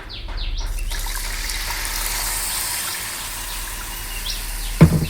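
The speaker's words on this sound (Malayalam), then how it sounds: "ഇനി നമുക്ക് ഇതിലേക്ക് തേങ്ങാപ്പാല് രണ്ടാം തേങ്ങാപ്പാല് ഒഴിച്ചു കൊടുക്കാം" Second coconut milk poured into ada payasam makes a continuous close liquid trickle and splash, with a short clatter at the end.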